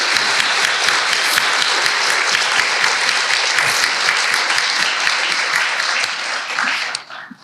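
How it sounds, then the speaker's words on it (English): Sustained, loud audience applause at a business leadership event fills the room steadily for several seconds, then tapers off quickly at the end, with no talking over it. "Let's give them a big round of applause."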